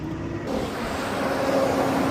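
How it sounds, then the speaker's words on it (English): Engine fan clutch on a Nissan Frontier running steadily, a loud whooshing roar with a faint whine, close and continuous with no talk. "You can hear the fan clutch now."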